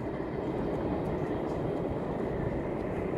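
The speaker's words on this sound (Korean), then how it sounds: "레일 바이크." A rail bike rolls along an outdoor track in Wonju, Gangwon-do, near Sogeumsan, giving a steady, moderately loud rumbling roll with no break and no voices.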